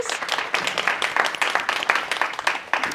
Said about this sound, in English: Let's give a round of applause to our volunteers.